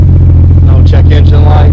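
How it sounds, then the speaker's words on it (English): A Jeep Cherokee XJ engine, just fitted with a new fuel pump, runs with a steady low idle rumble close by, with a voice talking over it. "One crank. Starting up."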